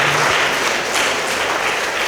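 A crowd at a Rwandan church children's patronage event breaks into sustained applause, many hands clapping in a thick, even wash that stays loud throughout; a faint voice shows at the very start.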